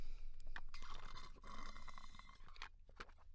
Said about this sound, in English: Oh. Loud trucks.